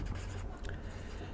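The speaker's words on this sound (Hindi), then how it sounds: "लिखेंगे हम" Pen on paper while working through a quadratic equation, a brief close scratching of writing strokes over low background noise, with no clear speech.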